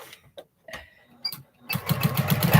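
A sewing machine quilting with a walking foot runs steadily in the last second, loud and close, after a stretch of soft handling noises and brief pauses.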